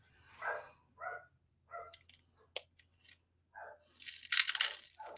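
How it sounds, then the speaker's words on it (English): A dog barks indoors in several short, separate bursts with small yips between them and brief clinks mixed in. Moderately close, with no speech over it. "I do apologize for the dog barking."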